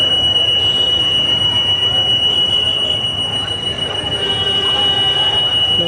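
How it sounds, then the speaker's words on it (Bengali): An approaching train rolls close by with loud, continuous wheel squealing over a heavy rail rumble. "ট্রেন ভরায় কাছাকাছি চলে আসছে।"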